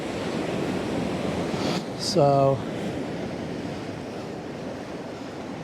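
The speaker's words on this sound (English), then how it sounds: "That white water coming in really does look good." Sea waves roll white water onto the shore under a windy, unpredictable sky, a constant wash of surf with a brief tonal sound midway and a single spoken word.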